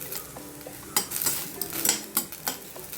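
Tender hurda jowar grains roast in a pan, giving scattered sharp crackles and pops alongside light scraping and metallic clinks from stirring, moderately quiet with no voices.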